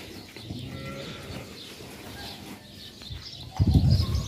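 Young lambs and goat kids on a farm bleat softly and intermittently, with a louder burst of animal noise near the end, amid open outdoor ambience.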